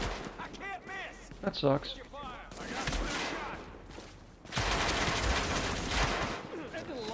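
Rapid bursts of gunfire from The Division during a global event assault, crackling in dense volleys and scattered shots throughout, loud and continuous, with someone talking over part of it.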